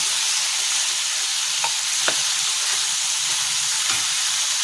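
Onion, capsicum and tomato stir-frying in a pan with fenugreek seeds for a Chinese-style liver stir fry, a steady broadband sizzle throughout with a few soft scraping stirs, close and alone.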